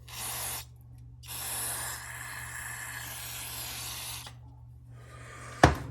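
Spray squirts during a carburetor jet change on an XR650R dirt bike, heard as three close, loud hissing bursts, the middle one longest, then a sharp tool clack at the end.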